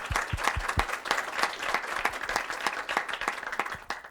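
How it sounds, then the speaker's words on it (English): An audience at a CFA Institute Research Challenge final in Brazil claps and applauds, with dense, close handclaps and a few sharp individual claps standing out. "Let's give them a round of applause, please."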